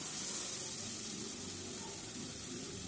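Spice paste frying with potatoes in a pan for a Bengali drumstick fish curry, giving a steady, close sizzle with a faint scraping stir throughout, no talking.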